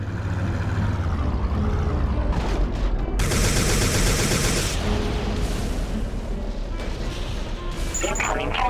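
Gunfire from the hovertank in the Recoil PC game blasting fuse-like targets and a core, with dense bursts of shots, booms and bright blasts over continuous engine rumble, loud and close.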